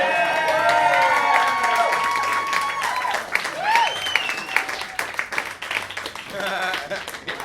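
A comedy club audience breaks into loud, sustained applause mixed with cheering, whoops and shrill whistles, a dense crowd roar that stays strong for the whole stretch before thinning slightly near the end.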